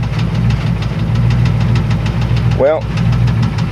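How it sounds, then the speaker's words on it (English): The engine of a 1994 Chevrolet Astro van runs at idle up close, a steady loud rumble with a rapid knocking pulse, while someone briefly speaks over it. "now that I got the engine running"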